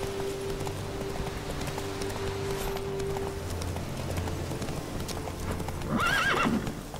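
Roach, Geralt's horse in The Witcher 3 video game, galloping with steady rhythmic hoofbeats and a clear neigh near the end, over a faint ambient background.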